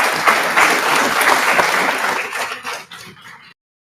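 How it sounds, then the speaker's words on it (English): Applause from the audience at an outreach session in Bengaluru, a burst of many people clapping that holds for about two and a half seconds and then thins out into a few last claps before stopping. "Can we have a big round of applause for Vishnu sir?"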